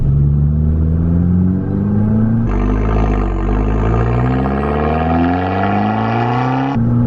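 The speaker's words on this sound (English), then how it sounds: "you don't get sick of hearing that little turbo spool up, and it spools up quick." A Fiat Abarth 695 Biposto's engine revs hard as its small turbo spools up quickly with a rising whine, loud and close, the pitch climbing steadily over several seconds.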